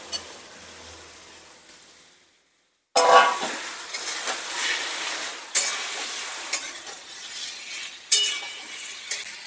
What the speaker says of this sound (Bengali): মাংসটা খুব ভালো করে কষিয়ে নেব।